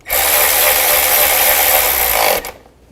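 Power tool driving bolts down on a fuel injector bracket of a 2000–2006 GMC Yukon, one sustained close, loud whirring burst of about two seconds that cuts off sharply.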